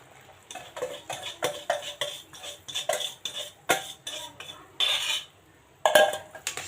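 Batter being stirred into sugar syrup in a metal pan for a Diwali sweet, with repeated scraping, clinking stirring strokes in an uneven rhythm, close and fairly loud, brighter clattering scrapes near the end, no talking.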